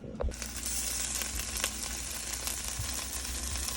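Steak strips for fajitas sear in a pot on a stovetop, giving a steady, dense crackling sizzle that runs throughout with a few sharper pops and no talking.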